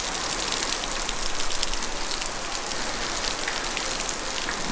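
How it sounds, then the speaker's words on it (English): Heavy rain pours down continuously in Puerto Rico, a dense, loud, even hiss of drops drumming on surfaces with no letup and no voices. "you can tell it's raining like a mug. Okay, now it's really coming down."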